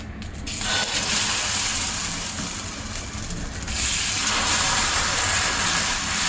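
Cucumber dosa batter poured onto a hot kadai gives a loud, close, continuous steamy hiss that swells after a moment and holds steady without any talk.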